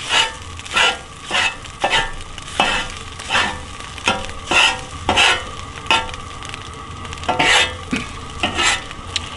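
Food sizzles on a small 17 or 22 inch camping griddle in a converted cargo trailer camper, a steady close frying hiss broken by regular bursts of scraping and stirring with a spatula, roughly one every second.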